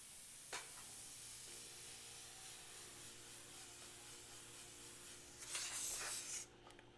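Faint steady hiss of paint being sprayed from an airbrush or spray gun onto a piece, with a louder burst of spray near the end, with no voices.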